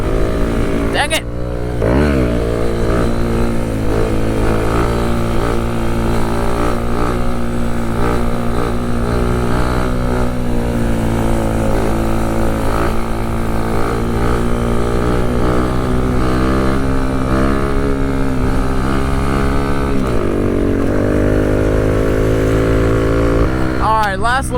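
A Kawasaki Z125 motorcycle engine revs steadily in third gear during a wheelie, its buzzing drone rising and falling as the rider holds the RPM, loud and close throughout with brief throttle dips.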